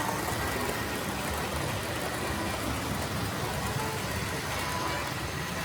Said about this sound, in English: Just listen to that whine the motor makes.